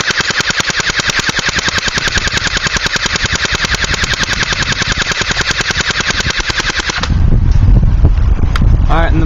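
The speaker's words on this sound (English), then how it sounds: "Alright, let's go full auto." A CYMA CM 027-J airsoft gun rattles off a long, rapid full-auto burst for about seven seconds, evenly spaced shots up close, then stops and leaves a rustling background.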